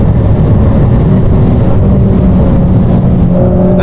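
A Mercedes-AMG car at speed on the Nürburgring uphill section gives a loud, continuous engine roar with road and wind rush, held at high power without a break and no speech over it.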